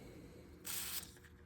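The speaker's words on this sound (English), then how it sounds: "Spray a little bit of WD-40 on there." One short, hissing burst from a WD-40 aerosol can, lasting about a third of a second, close and clear against quiet background noise.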